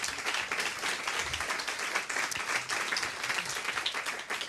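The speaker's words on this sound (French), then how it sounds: "je pense que Nicolas mérite encore un applaudissement" Audience applause at a social-media conference in a lawyer's session, a steady wash of many hands clapping at moderate loudness for the whole stretch with no voices over it.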